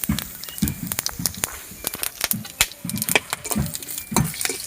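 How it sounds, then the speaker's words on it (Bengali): Whole spices (cinnamon, cardamom, cumin, cloves and bay leaves) tempering in hot oil in a wok, with soft crackling sizzle and repeated scraping stirs of a utensil against the pan, close and moderately quiet. "আমি কড়াই তেল দিয়ে নিচ্ছি এই যে ফোড়নে রয়েছে দারচিনি এলাচ জিরে লবঙ্গ আর এই দুটো তেজপাতা"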